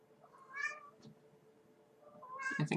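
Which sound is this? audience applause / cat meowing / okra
cat meowing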